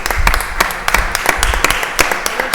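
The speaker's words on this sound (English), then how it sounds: "everyone deserves a round of applause" A crowd at a city council meeting gives steady applause, with crisp individual claps standing out close by and a general clapping wash behind them, and light voices under it.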